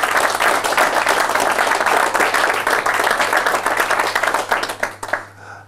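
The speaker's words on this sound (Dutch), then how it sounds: "En nogmaals een groot applaus voor de winnaar van de Loek Nelissen-prijs." A crowd applauds the winner of an award at a business event in Venray, loudly with dense, sustained clapping that fades out near the end.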